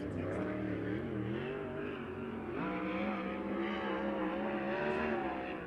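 USAC race car at Circle City during Week of Indy accelerating hard down the back straightaway, a loud sustained engine roar with rising revs, near and continuous throughout.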